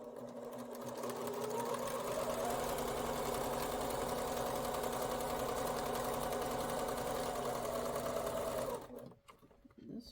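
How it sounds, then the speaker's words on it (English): A sewing machine stitches scant quarter-inch seams along diagonal lines on quilting fabric for half-square triangles, a steady fast mechanical whir running for about nine seconds before stopping with a few clicks. "we're going to stitch scant 1/4 inch on either side of both of the diagonal lines"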